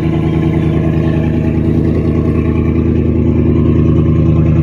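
A 2019 GMC Sierra Denali with a Corsa exhaust, run essentially straight-piped, drones loud and close in a steady deep rumble with a slight rhythmic lope, holding an even idle throughout with no talk.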